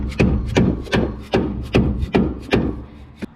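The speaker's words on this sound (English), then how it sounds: "Dead blow hammer." A dead blow hammer taps a new suspension bush and shackle into place on a Landcruiser 4X, landing about eight firm, evenly spaced blows in a steady rhythm, close and loud with no talking.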